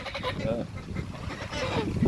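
Geese honk repeatedly in a busy village farmyard with chickens, goats and dogs, voices talking over the calls and steady background noise.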